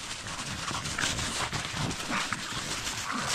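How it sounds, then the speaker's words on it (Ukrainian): Dogs run through a snowy forest on Christmas day, soft patter and rustling of paws in snow with faint panting and whimpers, close by, with no talk. "Собакам все рівно де бігати, да?"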